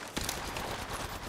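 Gunfire in the mobile battle game Apex Legends Mobile, a dense burst of rapid shots layered with loud in-game battle noise for about a second.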